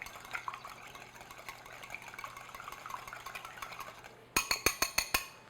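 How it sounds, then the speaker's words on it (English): A wire whisk lightly beats one large egg in a bowl, with soft stirring at first and then a quick run of bright metallic clinks against the bowl near the end. "I'm just going to lightly beat that with a wire whisk."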